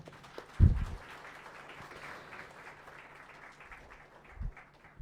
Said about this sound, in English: Another round of applause for Prof. Lu.